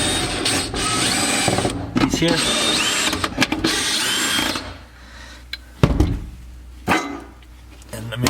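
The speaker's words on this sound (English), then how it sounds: "Put this 10mm socket on a drill." A drill fitted with a 10mm socket spins bolts out of a Cadillac SRX liftgate, giving several loud whirring bursts with ratcheting clicks, then quieter gaps where someone speaks briefly.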